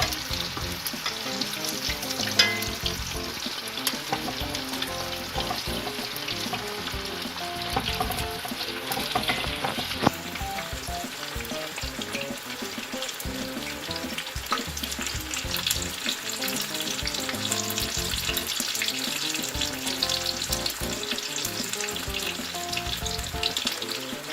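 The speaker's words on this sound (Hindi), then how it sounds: "ये देखें, मछली फ्राई हो गई है।" Spicy masala-coated fish frying in a pan of oil, a steady dense sizzle crackling throughout at close range, with occasional louder pops and no voices.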